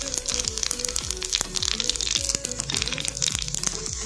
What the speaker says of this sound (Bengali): বাজার থেকে কিনে আনা, এটা এখন আমরা তেলে ফ্রাই করব